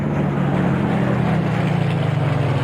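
Loud, steady droning of aircraft engines in the video game Plane Mechanic Simulator, a constant low hum with a throbbing propeller tone filling the whole stretch, close and uninterrupted.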